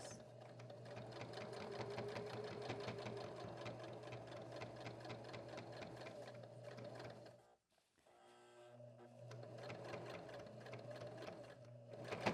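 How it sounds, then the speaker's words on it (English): A sewing machine stitches steadily through several thick layers of fabric, a fast, even mechanical rattle up close that stops briefly and then picks up again. "Going through multiple layers. Your sewing machine might talk to you."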